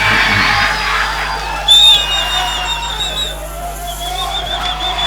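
A crowd at a talent show final cheers for a finalist, with loud sustained noise, shrill whistles and whoops that swell in a burst midway and then carry on at a steady level.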